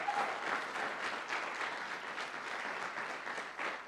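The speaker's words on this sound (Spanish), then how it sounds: "¿Y por qué no le das un aplauso al Señor?" A church congregation claps in sustained applause, a soft, somewhat distant patter of many hands that holds steady and swells briefly at the end.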